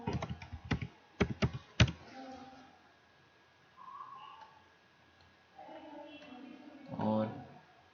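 Someone typing a name into MS Word on a computer keyboard: a quick burst of sharp, close key clicks at the start, then quieter pauses with a voice speaking softly later.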